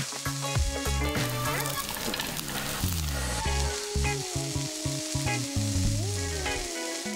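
Ground meat browns in a pan with onion and crushed walnuts, a loud steady sizzle that stays close throughout without speech.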